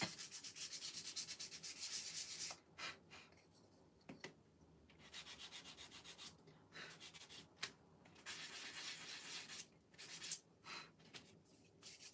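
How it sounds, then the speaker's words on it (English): Hand sanding of a small wooden nativity figure from a craft kit, heard as close, rhythmic rubbing strokes in bursts with brief pauses between them and no talking. "let me just sand this a little bit"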